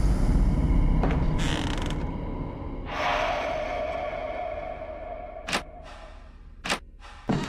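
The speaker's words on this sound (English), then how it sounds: "Damn. Broken, stupid ass doors." Broken wooden doors creak in the video game Perception: a long drawn-out groan that swells and slides, followed by several sharp knocks and thuds near the end, loud and close with no talk.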